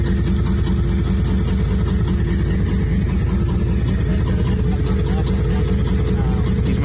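A custom lowrider car engine idles steadily up close, a loud continuous rhythmic low-pitched throb with a fine pulsing beat, no talk over it.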